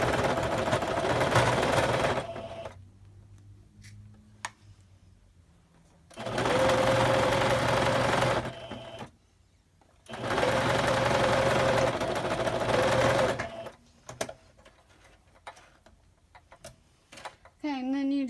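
Sewing machine stitching rows of a puff quilt, loud fast whirring runs of several seconds each separated by quiet pauses, close by, with faint handling noises in between.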